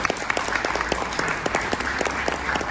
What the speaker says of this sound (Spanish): el profesor Daniel Balmaceda, a quien recibimos con un aplauso.